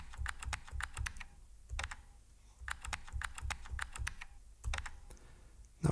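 Typing on a computer keyboard while setting a password, with quick bursts of clicking keystrokes separated by short pauses, close and fairly quiet.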